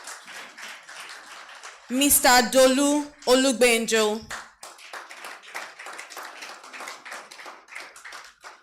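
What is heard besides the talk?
audience applause welcoming panel guests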